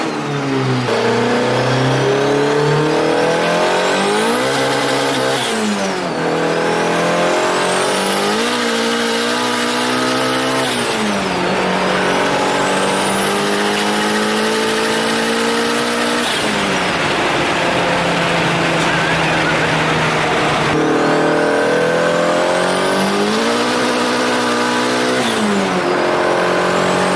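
A turbocharged Honda Civic with a D16 SOHC engine is driven hard, revving up through the gears again and again with loud sweeping engine pitch, turbo whine and pauses between shifts, heard close from inside the car.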